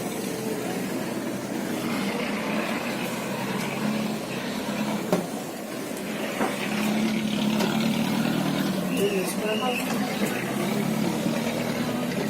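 A houseboat engine drones steadily at a low level while the boat reverses on the Alappuzha backwaters, a constant muffled hum with faint voices nearby.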